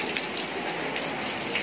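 Rain falling outdoors in Dak Lei, Dak Koi, a steady close hiss of drops on surfaces, even in loudness throughout with no talk.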